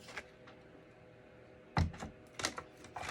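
A small Pee-wee die cutting machine cuts a paper die for a card, heard as a few sharp clunks and rattles with quieter handling taps between them, close and with no talking.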